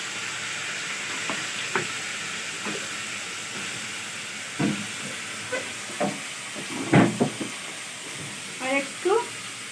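Garlic and ginger paste frying in a pan gives a continuous low sizzle, broken by scattered clinks and stirring knocks, with someone speaking intermittently over it.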